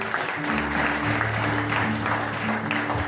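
A church congregation gathered at a high school claps steadily together, a continuous wash of hands over a low sustained musical drone.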